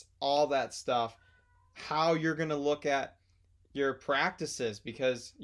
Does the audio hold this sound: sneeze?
no